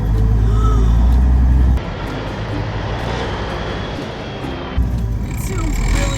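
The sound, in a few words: 1984 Peterbilt 359 truck driving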